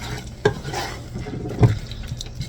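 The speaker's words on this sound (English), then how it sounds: "I just let it fry for a minute or two, come around, stir it up, and as you're stirring it, it will smash as well" Canned beans being stirred and fried in a pan, with a steady soft sizzle and two sharp utensil knocks against the pan partway through, plus lighter scraping, close by with no talk.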